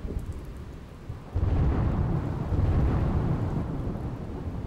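Heavy rain pours down in Palanpur, Banaskantha, a dense steady roar with deep rumbling thunder rolling underneath that swells partway through and stays loud.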